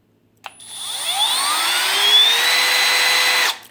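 A Milwaukee M12 Gen 2 FUEL hammer drill set to low speed spins up from a sudden start, its whine steadily rising in pitch over about three seconds before cutting off, close and loud with no talking.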